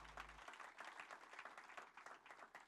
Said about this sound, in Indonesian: Mari kita berikan tepuk tangan buat Tuhan.